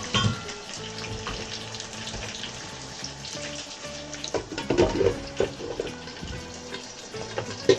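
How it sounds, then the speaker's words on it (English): Onions frying in a pan for pinakbet, a steady close sizzle with faint clinks and stirring, a few brighter crackles and scrapes toward the end. "Now we put our onions."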